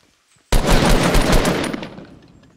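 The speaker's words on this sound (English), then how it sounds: "He's getting shot from someone else." A sudden loud burst of rapid automatic gunfire in a video game as a player is shot, starting abruptly after a moment of quiet and trailing off over about two seconds.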